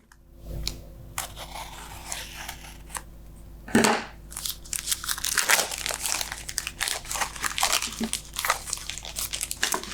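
Card-making product packaging is crinkled, torn and crunched open in a series of close, sharp bursts of plastic and paper handling, with brief pauses between them.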